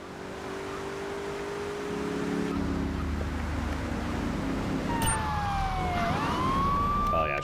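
A video game police siren in Grand Theft Auto III wails, rising and falling over a steady engine rumble, growing louder and closer toward the end.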